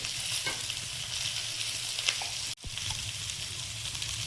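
Chopped tomato, slit green chilli and cumin powder sizzling in a pan, a loud steady frying hiss close up, briefly cut by a short gap midway before resuming.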